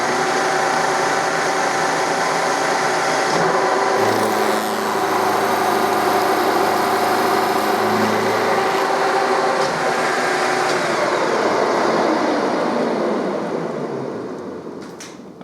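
A milling machine takes a full-width cut in metal at about 1¼ millimetre depth, producing a loud, continuous whine with steady tonal hum that winds down near the end.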